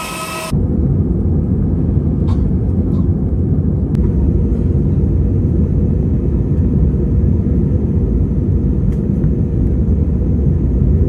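Steady loud roar of a passenger airplane cabin in flight from Bangkok to Phuket, a constant low engine drone with a few faint clicks and no talking.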